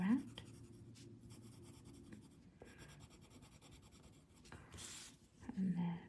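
Soft, continuous scratching of a pencil rubbing across a paper tangle tile as flowers are shaded, close and steady with short pauses, while a voice speaks briefly at the start and end.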